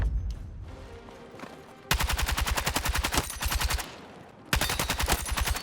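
A suppressed short-barrel SMG fired in Battlefield 6, two sustained rapid-fire bursts of closely spaced muffled shots, loud and near, separated by a brief pause, with no talk.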